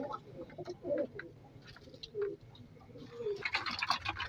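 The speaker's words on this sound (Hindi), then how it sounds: "ये मेरे जो है ना उड़ने वाले कबूतर हैं, देखें ये बाजरा खा रहे हैं" Highflyer pigeons coo softly while feeding on millet from a dish, low murmuring calls repeating in a steady background with rustling and brighter chirps toward the end, no talking.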